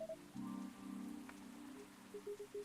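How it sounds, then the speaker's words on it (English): Soft rain falls outside in the video game Coffee Talk, a faint patter beneath gentle sustained musical tones and a few light chimes. "A place to be safe while the rain falls outside."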